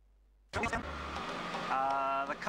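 A 550-horsepower tube-frame race car on race tires fires up abruptly after a moment of near silence, then settles into a loud, rough, steady engine roar close by, with a rising tonal whine near the end.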